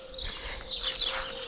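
Birds chirp and tweet in fruit trees on a family farm, a busy scatter of small calls at mid distance over a low steady hum.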